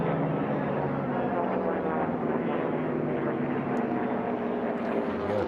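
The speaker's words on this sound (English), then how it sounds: "accelerate that aircraft and head back towards the home pylon" A race aircraft accelerates around pylons in a sport-class air race heat; its loud propeller engine drones steadily and continuously, close and unbroken, with a faint voice in the background.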